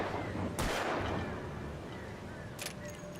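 A single gunshot fired in Alan Wake Remastered, a sharp burst followed by a second fainter crack, set against quiet ambient game background.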